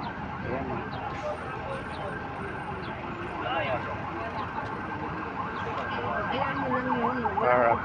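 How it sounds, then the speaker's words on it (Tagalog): An ambulance siren wails at a motor and car accident on Roxas Boulevard, rising and falling at moderate distance amid city traffic noise, with people talking over it. "Dito po ako yung ambulansya."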